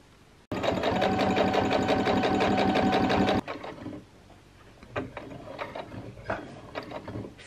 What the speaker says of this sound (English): Sew this properly on just in case.